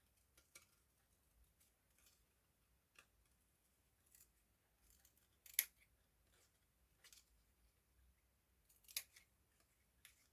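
Scissors snip through a card piece for a simple wedding day card, giving a few sparse, faint clicks spread across a quiet stretch, with one sharper cut standing out midway.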